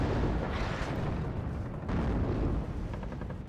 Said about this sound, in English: So now I'm dropping down some artillery, just trying to do anything.